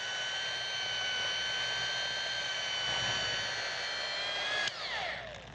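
Steady, continuous whirring drone of a polishing machine running with compound on car paint during scratch and scuff removal, holding an even pitch before it winds down near the end.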